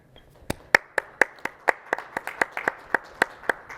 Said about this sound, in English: I hear one hand clapping.